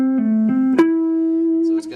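Electric guitar lick played as a single sustained note that shifts pitch through a pull-off and hammer-on, with one sharp pick attack near the middle and a final pluck at the end, close and clear with no talking.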